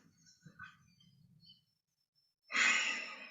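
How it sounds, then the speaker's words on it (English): During a Five Element Qigong breathing exercise, a few soft breaths give way to a pause and then a loud, open-mouthed 'ha' exhale that trails off. "We're going to continue to use that ha sound in the exhale."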